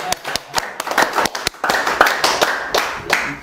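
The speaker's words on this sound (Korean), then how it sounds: "박수." Scattered hand clapping from a lecture audience at a talk on economics and management, a handful of uneven, sharp claps rather than sustained applause, fairly close.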